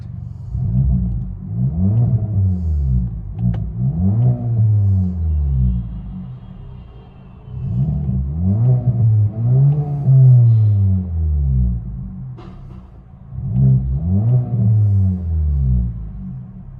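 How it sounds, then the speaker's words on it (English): Cabin view of a 2021 Hyundai Sonata turbo with a Stainless Bros exhaust, high-flow cat and no muffler, giving a loud deep drone that swells and falls through three long revving pulls. "The stainless steel bros sound good."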